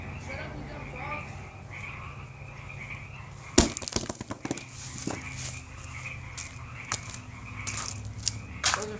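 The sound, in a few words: frogs croaking in the background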